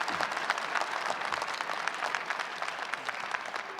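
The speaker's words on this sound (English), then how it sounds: "No matter how you look at it, the majority applauded this." Shareholders applauding at an extraordinary Nissan shareholders meeting, a sustained patter of many hands clapping in a large hall, steady and moderately loud with no voices above it.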